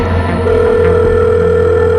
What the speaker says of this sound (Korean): 나는 다시 분식점으로 전화를 걸었다.